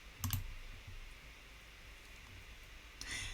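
Two soft mouse clicks near the start, then a faint click near the end, quiet and close against a low background hiss with no talking.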